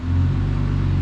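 An engine fitted with an RV6 long-tube J-pipe exhaust revs for about a second, giving a loud, steady, low, rumbling drone up close.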